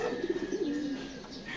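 Racing pigeon of the Ice or Stencil variety cooing close by, a soft throaty coo followed by a rolling trill over faint background hum.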